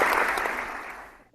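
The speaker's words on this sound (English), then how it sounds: "let's give her a round of applause" A round of applause from a small podcast audience, a brief burst of clapping that fades out over about a second with no one talking.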